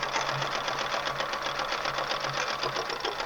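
A sewing machine runs steadily and loudly up close, appliqué stitching daffodil petals in a motion like free motion quilting, with a continuous rapid mechanical chatter and no voices.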